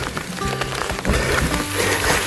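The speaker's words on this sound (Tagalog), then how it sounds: "Ambon lang, ambon." Light drizzle patters steadily on a surface, a dense continuous wash of soft droplet hiss at a moderate level, with no voices.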